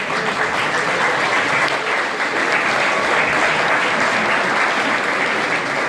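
Steady, dense applause from an audience at a speech event fills the whole stretch, loud and continuous with no clear breaks and no talking over it.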